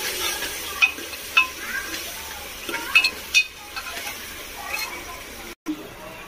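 Red chilli, turmeric and coriander powders are stirred in a hot, sizzling pan while rice pulao is cooked. A soft sizzle runs under a few sharp spoon scrapes and taps, with faint murmuring nearby.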